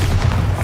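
Bombarda explosive spell in the video game Hogwarts Legacy: a short, dense, low boom with a rumbling body, loud and close, lasting under a second.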